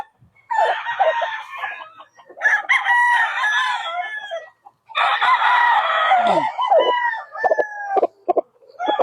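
Gamefowl roosters at a gamefarm in San Ildefonso, Bulacan, including a Boston line bird, crow and cluck repeatedly in loud, overlapping bursts with short pauses between calls, close by and with no talk.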